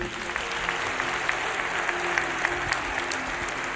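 A church congregation claps for a team in a dense, lively burst of applause that fills the room steadily from start to finish.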